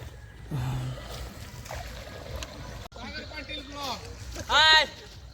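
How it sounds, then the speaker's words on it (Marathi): A wooden boat moving through water during Ganpati immersion, with a steady low wash and churn throughout, and voices talking over it, one louder burst near the end. "पाणी कापत आपली होडी चाललेली आहे"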